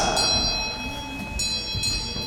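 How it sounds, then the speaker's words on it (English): A metal bell rings at a Hindu fire ceremony held at a temple in Toronto, with several bright, sustained strikes that ring out loudly and overlap one another against low room noise. "We will be ringing the bell periodically as well."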